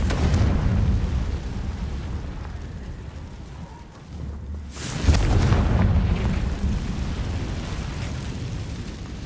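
A Confringo fire spell goes off in Hogwarts Legacy, a loud rumbling blast that swells around the midpoint, dips briefly, then bursts into a dense roaring explosion that sustains under continuous low-end rumble.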